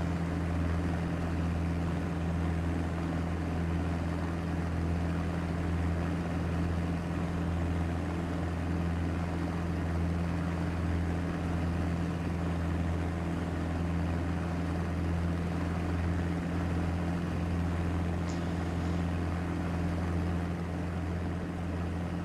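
Steady, loud drone of a DHC-1 Chipmunk's propeller engine in a flight simulator game, with a constant low hum and a rhythmic propeller beat holding evenly throughout, with no voices.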